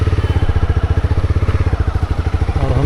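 Motorcycle engine running close by on a road trip toward Ladakh, a loud rapid thumping pulse that stays regular and even throughout, with no voices.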